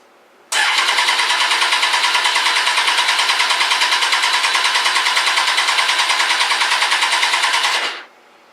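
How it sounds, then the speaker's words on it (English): Kawasaki ZX-10R motorcycle engine cranking on the starter with no fuel after a valve retainer rebuild, a steady, rapid mechanical churning that runs unbroken for about seven seconds, close and loud, then stops. "probably start off by cranking it up and trying to prime up the oil system"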